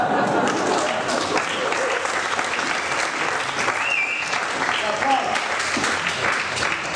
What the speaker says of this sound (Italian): Che se vuole sentire gli applausi